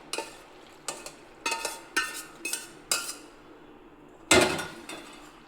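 Cooked pasta stirred and mixed in a pan for cheese pasta, heard as a series of sharp utensil clinks and scrapes at irregular intervals, ending with one louder, longer scrape, close and with no talking.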